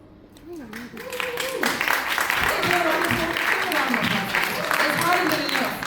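Audience at a WimBiz career-success debate applauding and cheering, a steady wash of clapping with voices mixed in that swells after the first second and holds loud to the end.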